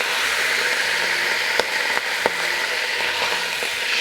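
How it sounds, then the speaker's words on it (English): Steady, close frying sizzle as red wine deglazes a roasting pan for mustard-crusted roast beef, with a few sharp clicks and scrapes of a wooden spatula against the pan bottom. "Scraping up all the little bits, making a lot of noise."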